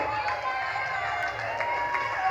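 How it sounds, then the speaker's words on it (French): Crowd applause for an award winner at an awards ceremony, a steady dense wash of clapping with some cheering, continuous and fairly even throughout, with voices mixed in. "Un tonnerre d'applaudissements pour Davina Apoa."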